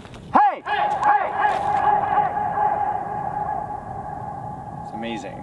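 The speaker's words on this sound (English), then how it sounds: "That sounds insane. Echo!" Shouted calls ring out in an open space and come back as a delayed echo from a distant surface, loud near voices followed by a trailing reverberant return, with more voices talking over it.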